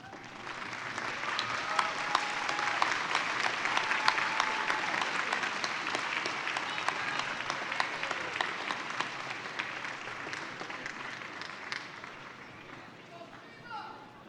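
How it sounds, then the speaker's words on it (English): Graduating class applauding family and friends at an autumn convocation ceremony, a long, dense round of clapping from a large hall that stays strong for over ten seconds before tapering off near the end. "face your family and friends, and give them a warm round of applause."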